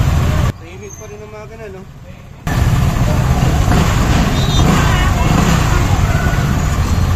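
A Griffin 180i four-valve motorcycle left idling after a long ride to cool down, a loud steady engine rumble with a brief quieter break, while someone talks over it.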